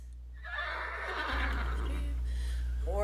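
A horse neighs loudly and close by, a long wavering whinny that rises and trails off over a low steady hum, with a shorter whinny starting at the end.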